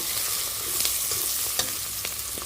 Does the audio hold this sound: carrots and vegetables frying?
yes